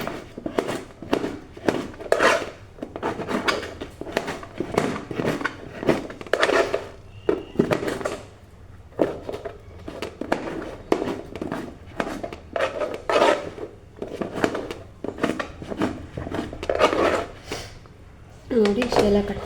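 A knife chops ridge gourd on a board in a home kitchen, with quick repeated sharp taps in an irregular rhythm mixed with occasional clinks, heard under someone talking.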